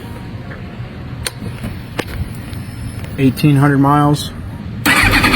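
MV Agusta F4 sport motorcycle on a cold start: a brief whirring starter crank with a wavering pitch, then the engine catches loudly near the end, with someone talking over the start.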